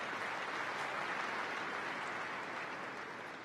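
A tennis crowd at a Brisbane men's singles match applauds a return, a steady wash of clapping that holds evenly and then fades slightly at the end.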